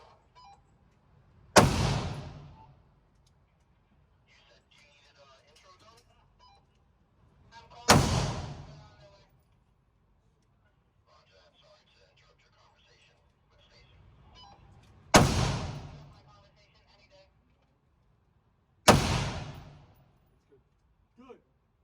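Gunshots at an outdoor gun range, four loud single shots spaced several seconds apart, each a sharp blast with a ringing decay, with faint talk and background noise between them.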